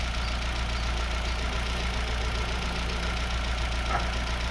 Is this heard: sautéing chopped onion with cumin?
no